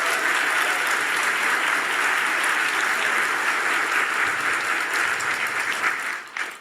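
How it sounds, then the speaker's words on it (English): A large audience at a public speaking event in a museum breaks into sustained, dense applause, steady and loud throughout before tapering slightly at the end. "Please give them a round of applause."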